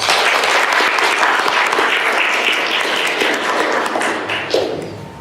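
An audience at a Humanists WA talk applauds to welcome a speaker, a dense, loud, continuous wash of clapping that holds steady before thinning slightly at the end.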